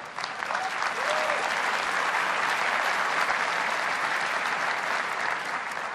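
Sustained audience applause fills a large keynote hall at Apple WWDC 2015, a dense, steady roar of many hands clapping at an even loudness throughout.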